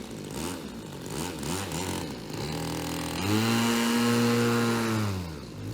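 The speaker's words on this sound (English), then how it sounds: "I gave it more throttle, and the engine stuttered" A model airplane engine sputters and surges unevenly during a takeoff run, its pitch wavering and stumbling before settling into a louder, sustained higher whine, close and dominant with no talking.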